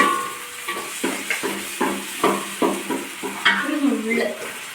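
Food being stirred in a pan while mixing a dish before sugar is added, with repeated short scraping strokes in an irregular rhythm, close and moderately loud over a faint sizzle.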